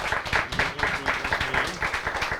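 Audience at a literary conversation with a prize-winning novelist applauding, brisk clapping with a pulsing rhythm, close and fairly loud.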